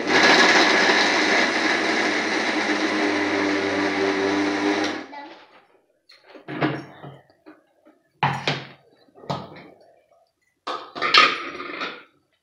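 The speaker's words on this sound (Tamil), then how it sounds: "இப்போ அம்மா வந்து வெல்லமும் போட்டு அரைக்கிறாங்க" A mixer grinder whirs steadily at high speed for about five seconds while jaggery is ground for a three-ingredient laddoo, then stops, followed by a few scattered clatters and knocks of the jar and lid.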